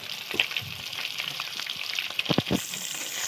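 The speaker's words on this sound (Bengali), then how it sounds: "তেলটা নেড়ে চেড়ে গরম করে নিলাম, দিয়ে ডিমগুলো আবার ভেজে নেব।" Eggs fry in hot oil in a pan, giving a steady close sizzle with a few sharper crackles and stirring scrapes near the end, with no voices.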